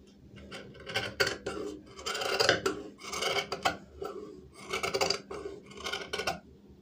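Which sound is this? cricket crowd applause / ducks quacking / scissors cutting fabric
scissors cutting fabric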